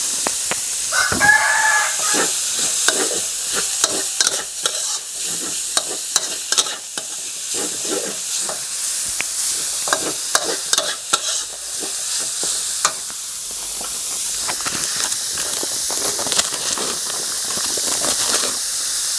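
Minced pork with dried chillies stir-fries in a hot wok for Thai basil pork, a steady sizzle broken by frequent sharp scrapes and clacks of the spatula, close and loud without talk.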